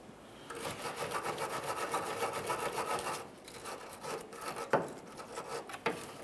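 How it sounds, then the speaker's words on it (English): Wire brush scrubbing around a steel brake line fitting on a 2004-2008 Ford F-150, with close rhythmic rasping strokes that stop partway, then a couple of sharp knocks. "I'm also going to use a wire brush around the fitting"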